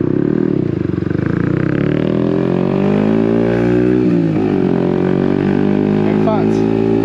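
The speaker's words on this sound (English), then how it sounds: "The exhaust is pretty loud." Yamaha XSR 125 motorcycle being ridden, its loud exhaust droning steadily up close with shifting engine pitch, partly under a person talking.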